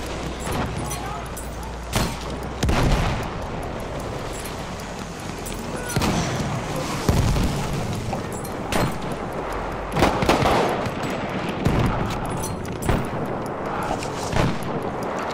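Battlefield 1 combat on a Suez frontline: heavy booming explosions and scattered gunfire rumble close and loud at irregular intervals, with voices talking over the battle.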